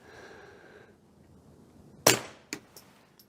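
A single sharp subsonic gunshot crack, loud and close, followed by a short echoing tail and faint clanks after a quiet stretch.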